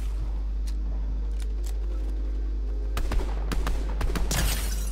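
Gunfire in a competitive battle royale video game: a few sharp shots and a short burst late in the clip over a steady low hum, with no talking.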